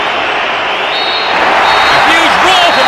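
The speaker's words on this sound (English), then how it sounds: "A huge roar from the crowd as the referee blows the final whistle" A football video game crowd roars loudly at the final whistle, a dense, swelling wall of cheering and applause with a whistle-like tone rising over it, near and sustained.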